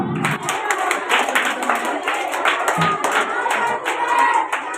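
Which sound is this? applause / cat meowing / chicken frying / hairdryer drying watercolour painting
applause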